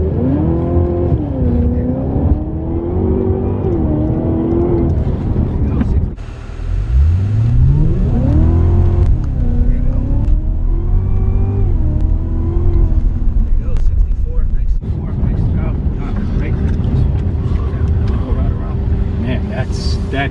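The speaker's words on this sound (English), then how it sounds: "if you roll a little bit and then give it the full acceleration, you should be able to get a better launch" A Cadillac launched from a slow roll under full throttle, its engine note sweeping sharply upward as it accelerates hard, with people talking over the car before and after the pull.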